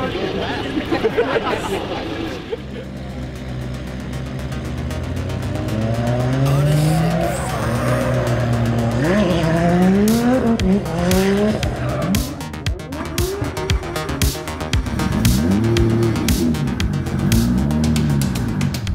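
Roaring drift cars revving and accelerating with long tire squeals at an RDS GP drifting competition, a crowd murmuring and an announcer talking over the noise.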